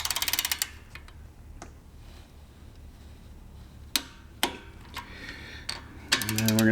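A torque wrench ratchets down 5/16 studs to 10–15 foot-pounds during a top overhaul, with several short bursts of quick metallic clicks separated by quiet pauses, close to the listener.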